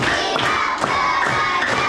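A classroom of children claps together in a rhythmic pattern, sharp group claps landing in a steady beat over a loud, busy room with shouting voices.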